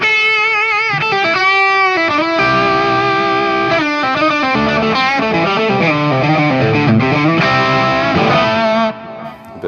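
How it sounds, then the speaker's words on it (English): Electric guitar played through the overdrive of a Nova System effects pedal with a little extra gain and some delay, loud sustained chords and bends, ringing out briefly at the end. "this one's an overdrive I came up with, a little bit more gain than the one on the other."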